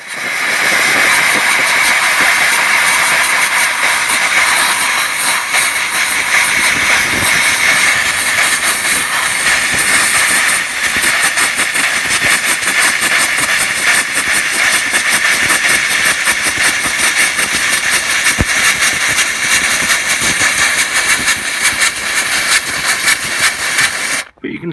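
A steam cleaner works over a car's interior with a loud, continuous rushing hiss that holds steady for the whole stretch, close to the listener, with a faint rattly texture underneath.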